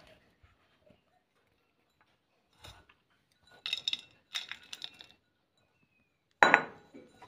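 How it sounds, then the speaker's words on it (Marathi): Spoon scraping coarsely ground garlic paste out of a grinder jar into a dish for a quick guar bean stir-fry: a few scattered clinks and scrapes in quiet, ending in one louder metallic knock. "तर एका डिशमध्ये हे काढून घेऊया आपण"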